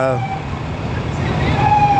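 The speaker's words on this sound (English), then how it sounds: "another ambulance coming up" An ambulance siren wails from a passing ambulance, its steady tone sounding over road traffic rumble.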